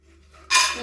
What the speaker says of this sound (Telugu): ఫస్ట్ పల్లీలు వేసుకుంటాను నేను